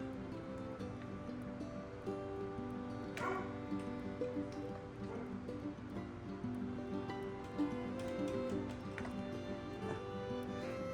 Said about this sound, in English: Dog's calling.